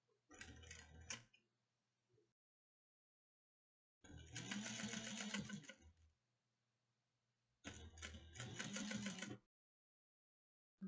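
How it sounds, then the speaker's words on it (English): Sewing machine back stitching through a quilt, running in three short bursts of rapid mechanical stitching separated by pauses, close and fairly loud with no talk. "I'm going to back stitch and start and stop."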